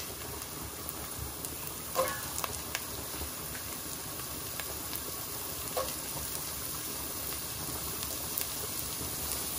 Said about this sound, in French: Les oignons sont bien saisis.